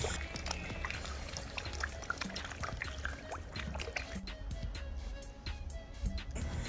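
Water splashes and pours continuously in an outdoor fish pond in Al Baha, Saudi Arabia, as fish leap for scattered feed, with irregular nearby splashes over a constant trickling wash.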